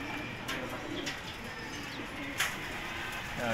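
Racing pigeons in a fancier's loft give soft, low cooing calls amid a faint steady background hiss, with a few brief higher chirps and clicks scattered through.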